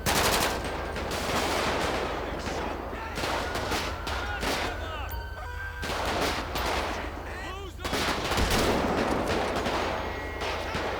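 Gunfire fills a GTA V LSPDFR police patrol game scene, with repeated loud shots and bursts over a dense, continuous background of action noise and brief voices.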